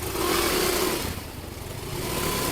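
A motorcycle engine revs on a small street as the rider sets off, a continuous nearby mid-pitched drone that dips briefly, then swells again.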